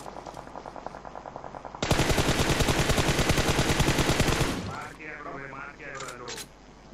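Automatic gunfire in the PUBG Mobile battle game: sparse rapid shots at first, then a loud sustained burst of fast machine-gun fire lasting a few seconds before fading into scattered distant shots.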